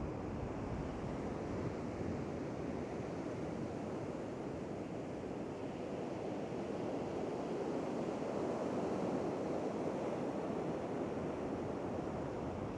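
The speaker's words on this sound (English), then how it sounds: "Lovely bit of sea running now." Sea waves breaking on a shore while kelp and cod fishing, a steady, full wash of surf rolling on without pause and no voices.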